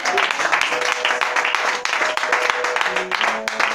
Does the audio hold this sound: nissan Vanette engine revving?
no